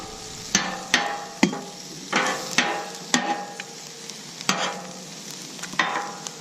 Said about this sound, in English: Let that beer cook off a little, get rid of the alcoholic taste.